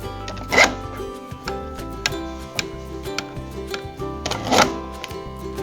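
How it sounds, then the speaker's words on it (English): Bar clamps are ratcheted and tightened to squeeze glued joints on a slat table. Quiet clicking and ticking repeat throughout, with two louder scraping clamp movements standing out over a faint background tone. "you can use the clamps to squeeze things together"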